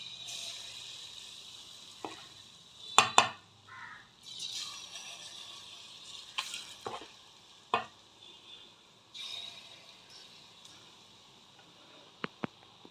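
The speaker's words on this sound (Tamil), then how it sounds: "எண்ணெய் ஹீட் ஆகிடுச்சு. இப்போ நம்ம இதை டீப் ஃப்ரை பண்ணுவோம்." Banana sweet bondas deep-fry in hot oil with a faint, steady bubbling hiss, broken by sharp clicks and clatters of a utensil against the pan, quiet and with no voices.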